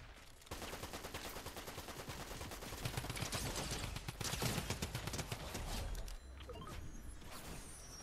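Rapid automatic gunfire in the Fortnite video game, sustained bursts of shots in a steady stream for several seconds, then tapering into a quieter, sparser stretch near the end.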